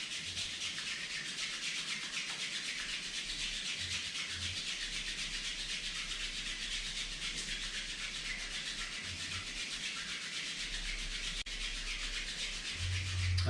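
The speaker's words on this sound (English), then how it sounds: "and then rub the palms." Palms rubbed briskly together during a Xingyi health exercise, a steady, continuous dry hiss of skin on skin, close and fairly loud, sustained without pause for over ten seconds.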